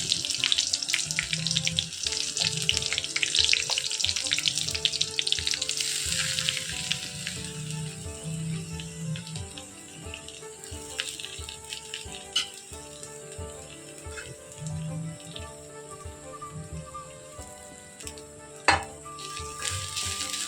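Garlic and shallots sizzle in a pan with grated coconut, a continuous bright frying hiss with repeated spoon-stirring scrapes, close up, with occasional clinks and background kitchen noise.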